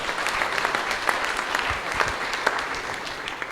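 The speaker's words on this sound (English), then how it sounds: "So let's give them a round of applause." Attendees at a Sunday Love Feast applaud the team that served prasad, a steady moderate clapping with distinct individual hand claps standing out, continuing evenly with no voices over it.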